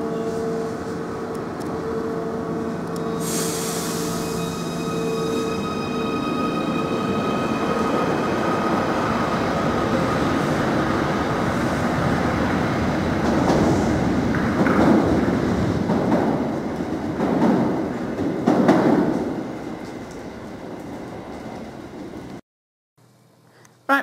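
A train rumbles steadily underway, heard from inside the carriage, with a continuous loud roar, rising wheel and track noise and squeals in the second half, then it cuts to near silence just before the end.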